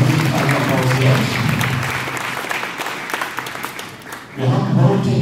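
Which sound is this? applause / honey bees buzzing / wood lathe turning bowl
applause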